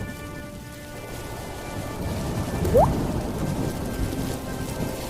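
Heavy rain pours down in a steady, dense hiss that fills the whole stretch, loud and close, with a brief high whistling sweep rising partway through. No voices are heard.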